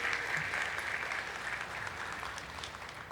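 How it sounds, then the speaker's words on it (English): Steady, fairly quiet applause from a graduation audience honoring the online academy class of 2025, a dense even patter of many hands held at one level throughout, heard from some distance. "let's give these remarkable individuals a warm round of applause"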